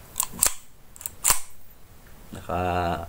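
Sharp metallic clicks from an Armscor Cal .45 pistol as its slide is racked, a few quick close snaps followed by a short burst of voice.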